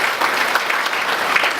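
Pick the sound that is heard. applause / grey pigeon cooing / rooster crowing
applause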